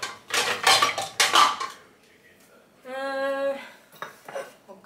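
Dishes and cutlery clatter loudly in a home kitchen, with a couple of dense bursts of clinking followed by a ringing tone from a struck dish and more scattered knocks.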